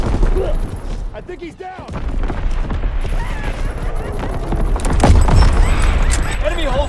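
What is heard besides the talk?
incoming artillery explosions in a video game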